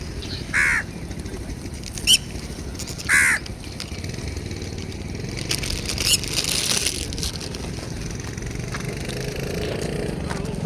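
Crows caw near a canal, three loud harsh calls early on, then fainter ones, over a steady outdoor rumble of a passing engine.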